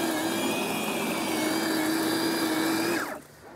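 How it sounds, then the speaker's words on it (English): Stihl Kombi power sweeper fitted with wheels, running with a loud, steady high whine and whirring drone for about three seconds before the pitch drops and the motor winds down abruptly; no speech. "and then we'll try it on the power sweeper"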